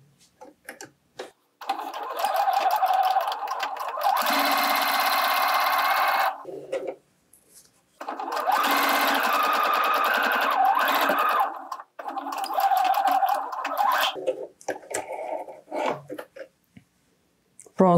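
A domestic sewing machine stitches fabric for a face mask, running in long steady bursts of a few seconds each with brief pauses between, fairly loud and close, with no talking.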